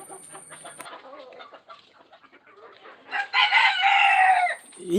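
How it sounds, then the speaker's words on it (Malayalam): A fancy breed rooster on a chicken farm gives scattered soft clucks and calls, then a loud, drawn-out crow in the last two seconds that is close to the microphone and carries no speech. "നല്ല സുന്ദരൻ ഒരു കോഴി തന്നെയാണിത്."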